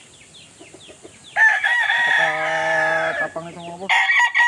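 A McLean Hatch gamefowl rooster crows loudly and close by, one long drawn-out crow followed by a shorter one, preceded by faint clucking while someone speaks briefly.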